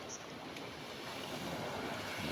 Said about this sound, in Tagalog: Ayan mga idol, oh, yung dagat.